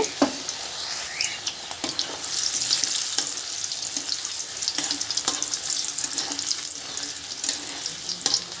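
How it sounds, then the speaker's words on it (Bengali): Carrots sizzling and frying in hot oil in a home village kitchen, a steady bright crackle with occasional stirring scrapes and clinks, close and continuous throughout. "তেল গরম হয়ে গেছে। এবারে দিয়ে দিলাম গাজর। গাজরটা প্রথমে ভেজে নেব।"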